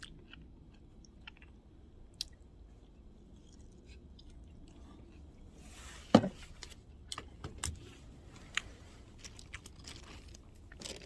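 Someone eats grilled pork belly with seaweed on top of a vehicle, producing quiet close-up biting, crunching and chewing with scattered clicks and one sharper crunch, and no talk.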